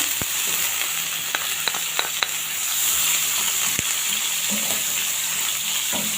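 Steady sizzle of chopped onion frying in about three spoons of hot oil, a continuous hiss with a few light clicks of stirring, no voices.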